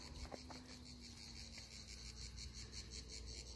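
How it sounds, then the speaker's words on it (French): A cricket chirps steadily outdoors with cicadas droning behind it, a continuous, fairly close insect trill in pulsing rhythm with no talk over it. "Là, il y a un grillon et des cigales derrière."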